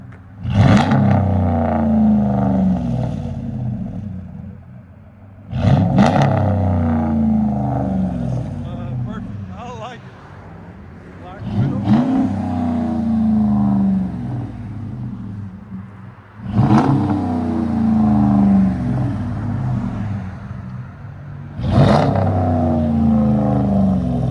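Throaty exhaust from a 2017 Ram 1500 pickup with the 5.7L Hemi V8 and a Black Widow Race Venom system, revved in five loud, sharp bursts that each open with a crack and then settle to a rumbling idle between them.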